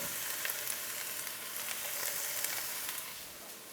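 Cauliflower florets hit a hot pan for a vegetable green curry, giving a soft, even hiss of sizzling that runs steadily for a few seconds with no voices.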